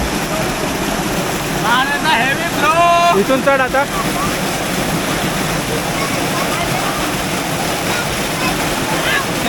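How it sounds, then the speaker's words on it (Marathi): A waterfall stream rushes hard and steady, a loud broad roar of strong flowing water that fills the whole clip while a person briefly calls out over it. "पाण्याचा प्रवाह खूप आहे"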